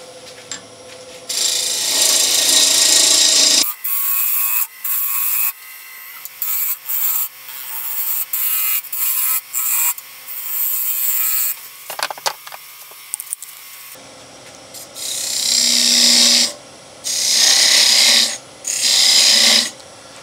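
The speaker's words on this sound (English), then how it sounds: "I'm gonna reduce the foot down, maybe come down with a small foot, something like this, part it off, sand the bottom" Woodturning tool cutting and shaping the foot of an open vase on a spinning lathe, heard as repeated loud scraping bursts of a second or two separated by short quiet gaps.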